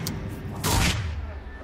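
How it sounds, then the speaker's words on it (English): A grenade explodes in the Mass Effect 3 video game. A couple of short sharp pops come first, then a single loud, broad blast that fades quickly. "Throwing grenades."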